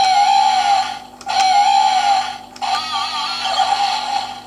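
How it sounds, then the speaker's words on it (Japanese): A DX Gashacon Sword toy from Kamen Rider Ex-Aid plays an electronic guitar-like sound effect, a bright buzzy tone in repeated bursts with short gaps, loud and close, with no talking. "ギターっぽい音が鳴りますね。"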